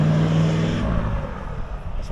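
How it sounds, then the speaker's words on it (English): A Toyota Land Cruiser rolls past with a low engine rumble that fades after the first second, while a voice talks over it. "That's a Land Cruiser going by."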